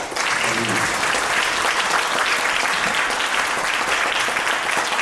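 At a ceremony marking the 104th anniversary of the Battle of Fengwudong, the audience gives warm, dense applause that rises quickly and holds steady throughout.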